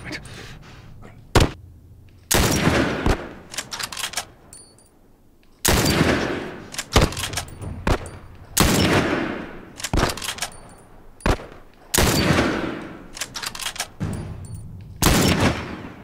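Gunfire from the survival game The Last of Us comes as loud, sharp bursts and single shots scattered irregularly across the span, with quieter gaps between the volleys.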